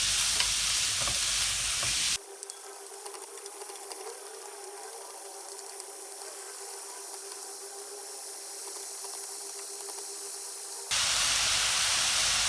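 Finely cut beef, not minced, fries in a pan for Vietnamese bún bò Nam bộ. A loud, even sizzle and hiss runs steadily, with a brief break of stronger noise at the start and end.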